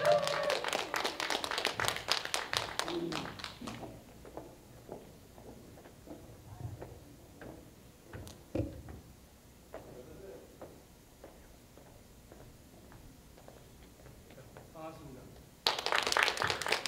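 At an open-air folk music concert, an audience gives the arriving guest speaker a burst of close applause, which thins to scattered, faint claps and footsteps and then surges again at the end.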